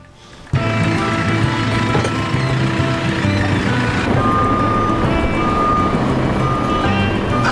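A farm loader reversing, with a loud engine rumble starting abruptly and a repeating electronic reversing beep steadily over it, close by.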